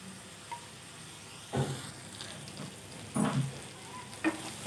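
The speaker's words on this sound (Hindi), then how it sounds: "जब तक इसमें तेल नहीं मसाला छोड़ देता है इसको तब तक हम भूनेंगे।" Spice masala for chana dal and lauki roasting in hot oil, a faint steady sizzle broken by a few soft stirring scrapes, with no voices.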